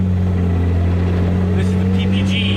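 A Nissan R33 fitted with a PPG sequential gearbox and a fresh engine idles loudly and steadily under partial load, with a strong, even engine drone up close and brief higher mechanical whirs toward the end.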